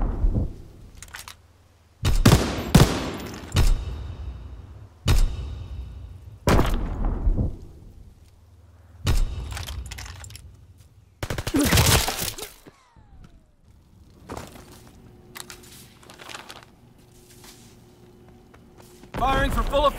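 Artillery fire and explosions in the video game Call of Duty: repeated loud, sharp blasts and cracks in irregular bursts, each decaying into rumble, with quieter gaps between them.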